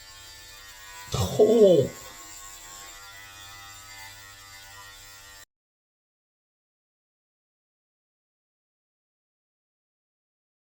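GLAKER professional electric hair clippers buzz steadily at close range, with a brief louder swell as they bite into hair, then the sound cuts off abruptly halfway through; a short spoken exclamation occurs.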